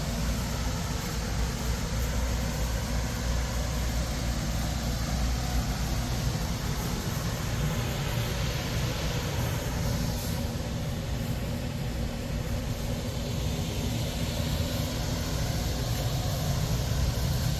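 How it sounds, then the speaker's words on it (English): An overhead air conditioning unit at an indoor classic car sale drones loudly and steadily, a constant low rumble and broadband hiss filling the space without a break. "We're underneath the air conditioning unit too, so it's going to be a little bit loud here."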